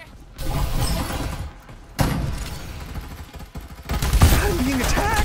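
Gunfire in the battle-royale video game Farlight 84, a sustained crackle of shots in bursts across the clip, loudest near the end, with game sounds and music mixed in.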